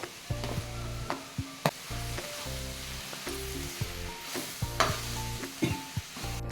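Grated beetroot cooks on a low flame for beetroot palya as a spoon stirs it in quick, repeated scrapes and knocks against the pan over a soft sizzle, close by and without speech.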